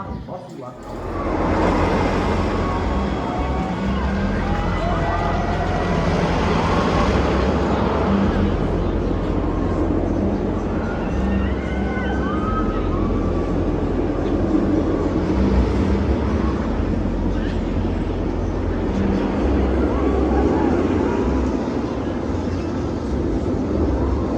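Millennium Force roller coaster at Cedar Point roars on as a loud, steady rumble of the train and wind, sustained and close for the whole stretch, with voices and crowd noise mixed in.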